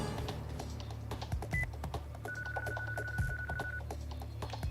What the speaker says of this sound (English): Better give him a phone call then.